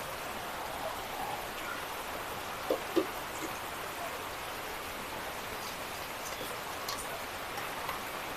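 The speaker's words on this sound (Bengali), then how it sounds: "বৃষ্টি হচ্ছে কিন্তু বাতাস নেই বলে রক্ষা" Steady rain pours down in still air with no wind gusts, a dense even patter beside an outdoor cooking spot, with a couple of brief louder drips near the three-second mark.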